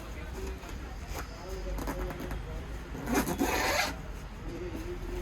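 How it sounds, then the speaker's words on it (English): A backpack zipper pulled shut on a convertible tactical pack, heard as a few short rasping runs and then one longer, louder zip near the end, close and fairly quiet. "So very easily this got zipped up"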